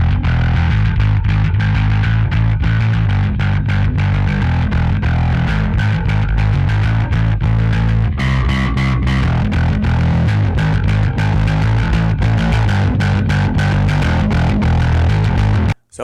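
A bass runs through a Darkglass Alpha Omicron pedal with its tight distortion and fuzz blended together, playing a long, loud, gritty riff of rapid repeated notes that stops abruptly at the end.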